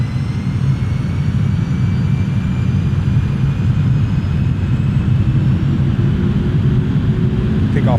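An MD-11 airliner's jet engines spool up for takeoff in a flight simulator, a loud, steady low roar with faint rising whine throughout, no voices.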